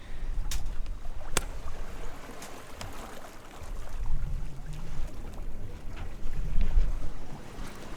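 A catamaran sails across flat calm water in fine conditions, with a steady low wash of water along the hulls and soft wind rustle throughout, plus a few faint knocks and creaks and no talking.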